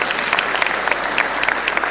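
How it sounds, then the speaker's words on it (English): Dense clapping from the audience at a town hall meeting on security, a continuous patter of many hands with no voices over it. "We should clap for us a little bit."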